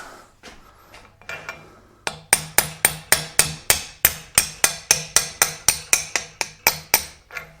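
Hammer blows driving a king pin bearing back out of the spindle on a 1975 Ford 550, about eighteen sharp metallic strikes in a fast, even rhythm, close and loud, after a few lighter taps.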